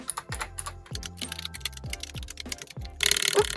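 Rapid clicking keystrokes on a computer keyboard during setup of an Apple M1 Mac mini, bursts of close, crisp taps with brief pauses and a denser flurry near the end, no talking.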